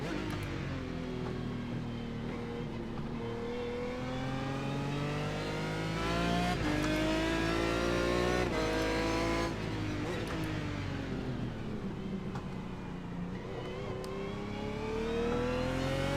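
GT1 race car engine in iRacing at Daytona, a continuous loud engine note rising and falling through gear changes, with brief shifts and a steady drone and no voices.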